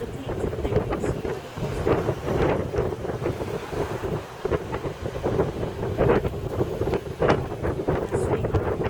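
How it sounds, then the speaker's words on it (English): Cold wind blowing steadily across the microphone on an open-top tour bus nearing Alamo Square in San Francisco, a loud continuous rumbling buffet with gusts, heard alone. "the wind is even colder because we are approaching July"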